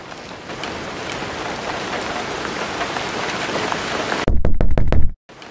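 Steady rain pours down in a dense, even hiss for several seconds, followed by a brief burst of loud knocking thuds before it cuts off.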